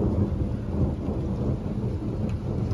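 Thunder rolls low and continuous through a nighttime thunderstorm with a downburst of damaging wind, a steady deep rumble with rain underneath, no voices.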